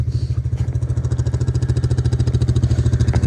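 A four-wheeler ATV engine putters close by in a snowy woodland, a fast, even, pulsing idle that stays steady throughout.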